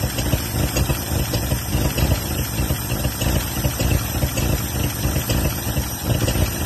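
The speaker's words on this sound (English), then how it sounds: "It is trying to go in gear now. I gotta idle this thing up or something." An old junkyard vehicle's engine idles with a loud, rough, steady low rumble and a faint rhythmic pulsing, close by and constant throughout with no talking over it.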